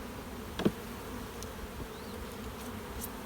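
Honeybees buzz around brood frames in a steady, low hum of many insects close by, with a brief knock near the start.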